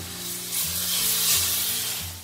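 Green curry paste cooked with coconut milk in a pot, coming to a boil with a steady, close bubbling hiss over a low hum.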